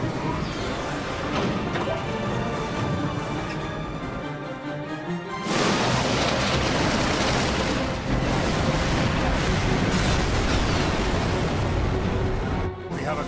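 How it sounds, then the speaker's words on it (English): Dense, continuous booming and crashing of cannon fire in Final Fantasy XII The Zodiac Age, loud throughout and growing heavier partway through, with a faint voice in the mix. "To the cannons. Make ready and fire."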